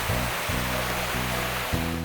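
The cascading waterfalls of Plitvice Lakes in Croatia roar with a loud, continuous rush of falling water, joined by a low rhythmic hum from a nearby engine.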